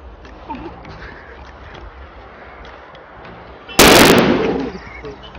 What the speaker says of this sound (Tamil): dragon deluxe bomb